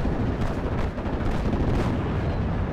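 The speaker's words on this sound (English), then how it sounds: "And ammo explosion there." Ammunition cooks off in the Steel Division: Normandy 44 WWII tank battle game. A dense, continuous roar of blasts and rumbling fire fills the whole stretch, loud and close, with no speech over it.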